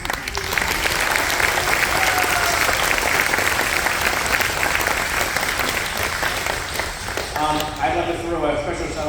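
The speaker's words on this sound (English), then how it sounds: "Maybe a great round of applause." A large audience at the Lancers of Steel spring concert gives loud, sustained applause. The steady wall of clapping carries on throughout, with a few voices and cheers rising over it near the end.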